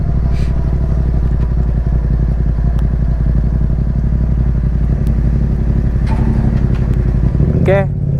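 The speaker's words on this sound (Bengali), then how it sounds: "আমার বাইক এত স্লো চলতেছে" A motorbike rolls slowly into an army camp in Kuala Lumpur, its engine a steady, close, low drone throughout, with a brief clatter and a rising whine near the end.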